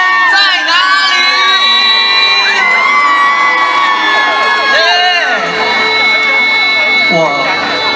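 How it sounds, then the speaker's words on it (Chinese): A large open-air crowd at a summer carnival concert in Hualien, Taiwan screams and cheers loudly and continuously, with shrill whoops and shouts rising and falling across the whole stretch. "所有花莲的朋友，全场的尖叫声在哪里？"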